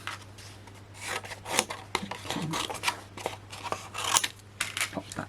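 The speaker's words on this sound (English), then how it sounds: "And if I grab my scissors" Scissors cut through material during papercrafting with heart-shaped confetti dies and stencils. Repeated crisp snips and scraping rasps come close to the mic for several seconds.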